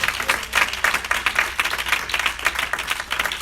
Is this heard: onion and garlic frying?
no